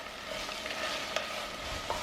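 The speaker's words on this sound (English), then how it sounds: "Add 100 grams of frozen vegetable and stir." Frozen vegetables fry with onion and ginger for Japanese curry bun filling, a steady close hiss with a couple of light clicks of stirring.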